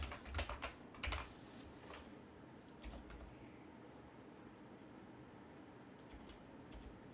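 Computer keyboard typing while writing Python code: a quick burst of clustered keystrokes, then sparse scattered taps over a faint fan hum, close and fairly quiet.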